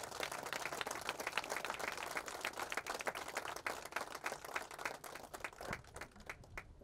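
People gathered for the opening of a biodiesel fuel pump clap for several seconds, the sharp individual claps clear and fairly quiet, thinning out toward the end.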